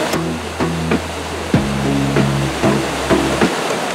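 Szklarka waterfall in Szklarska Poręba, a constant rushing wash of falling water under a repeating tonal melody that plays in short phrases over it.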